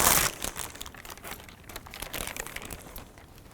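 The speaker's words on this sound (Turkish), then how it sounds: "Kağıdı buradan kaldıracağım." Sheet of paper peeled up and crinkled during a back massage session, a close, continuous dry rustling and crackling with a sharper burst at the start, then softer uneven crinkles throughout, no talk.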